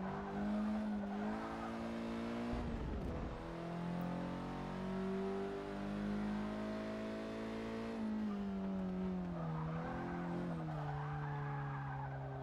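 A Mercedes A45 AMG hot hatch racing in Forza Motorsport 6, its engine droning loudly and continuously as the revs rise and fall through gear changes, with a brief squeal of tyres out of a corner.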